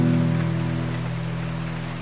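Rain falling steadily, a dense continuous hiss with a low droning hum underneath, fading slightly over two seconds.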